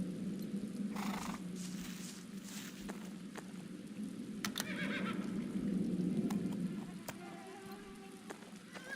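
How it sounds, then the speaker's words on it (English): Horses in a stable in The Black Mirror video game whinny and neigh several times, with hooves clip-clopping and faint rain-like patter beneath, steady and fairly close throughout. "Oh, these poor horses."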